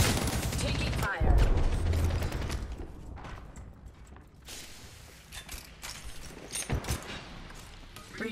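Gunfire in the video game Apex Legends: bursts of rapid mechanical shots and clattering weapon handling rattle on and off, fairly close and mid-loud, with a heavy thump early on and sparse game sounds between bursts.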